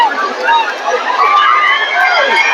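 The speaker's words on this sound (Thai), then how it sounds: "นี่คือบรรยากาศกองเชียร์ครับ" Fans in the stands at a U21 world championship beach volleyball match, a steady, loud mass of overlapping cheering voices and calls without a break.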